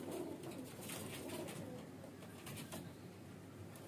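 Baby highflyer pigeons cooing softly and steadily at close range, a continuous low murmur with no talking.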